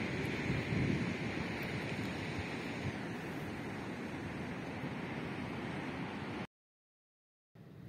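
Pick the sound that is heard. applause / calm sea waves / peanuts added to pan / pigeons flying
calm sea waves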